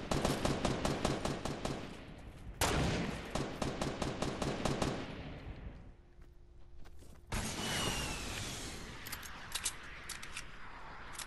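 Rapid bursts of gunfire in Fortnite, close and loud, repeating in fast rhythmic volleys with a short lull before more shooting resumes.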